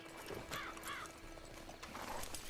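Horse hooves clip-clop at a steady pace in the video game Red Dead Redemption 2 Online, fairly quiet, with a brief whinny-like tone and a faint hum underneath.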